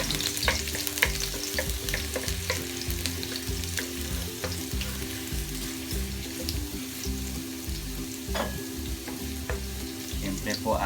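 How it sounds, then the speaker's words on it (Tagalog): Garlic sautés in hot oil for a creamy chicken pastel, making a continuous close sizzle with scattered crackles and spoon clicks over a low steady background hum. "Gigisa na po natin ang ating bawang."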